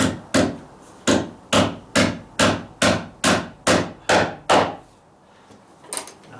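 A hammer drives a fat nail into a joist hanger on the bottom ledger of a deck: ten sharp, evenly spaced wooden blows ring out close by, then a pause and a single softer knock, with no voices.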